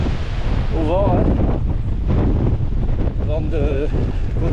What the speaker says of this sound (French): Vent de côté là, à droite.